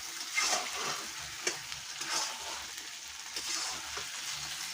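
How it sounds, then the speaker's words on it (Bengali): Desi chicken curry frying and being stirred in a pan, a steady close sizzle with repeated scraping strokes of the spoon throughout, no voices. "এবার আরও একটু ভালো করে কষায় নিচ্ছি।"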